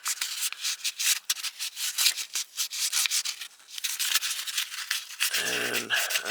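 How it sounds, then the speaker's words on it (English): Sandpaper scrubs the metal around the starter mounting area on a Nissan 350Z / Infiniti G35 in quick, rhythmic back-and-forth rasping strokes. It is close and fairly loud, with a brief squeak near the end. "I'm gonna grab some sandpaper and sand here to clean off the area"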